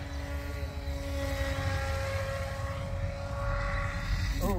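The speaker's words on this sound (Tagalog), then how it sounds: "Inaayos niya yung mga laruan niya ng mga styrofoam na eroplano. Remote control ito." A remote control styrofoam toy airplane flies over an open savannah park in Trinidad, its steady propeller drone humming continuously at moderate distance with a rising whine at the end, no talk.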